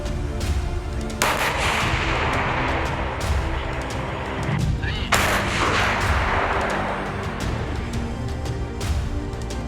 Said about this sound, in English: a gigantic explosion destroys all the surroundings, sending a plume of dark smoke over the village of Kodyma in eastern Ukraine